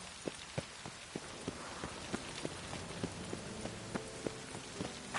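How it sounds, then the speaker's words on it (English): Steady rain pours down on a city in a video game, with scattered drips and sharper drops tapping nearby surfaces in an irregular patter. "The city weeps neath its veil of rain."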